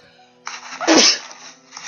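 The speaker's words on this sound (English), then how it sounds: "I'm gonna sneeze." A single loud sneeze, close and sharp, with a brief inhaled buildup before the burst.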